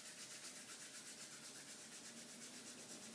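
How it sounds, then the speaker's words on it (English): Hands rub together in a soft, faint, steady swishing with a quick back-and-forth rhythm and no voices. "Rub your hands together."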